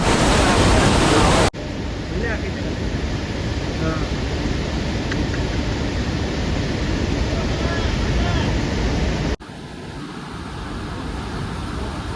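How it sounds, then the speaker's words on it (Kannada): A continuous roar of falling water from Gokak Falls, with water pouring down on all sides, fills the scene, dense and steady, broken by a couple of abrupt cuts in level. "ಎಲ್ಲಿ ನೋಡ್ತೀರ ಅಲ್ಲಿ ಸಣ್ಣಗೆ ಆ ಕಡೆ ಕಡೆ ಎಲ್ಲ ನೀರು ಬೀಳಾಕತ್ತಾವ್ರಿ"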